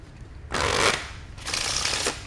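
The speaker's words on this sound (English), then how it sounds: "Riffle shuffles," Two quick riffle shuffles of a White Lions Series B blue playing card deck, each a crisp, bright burst of flicking cards lasting under a second, close and clear with no talking.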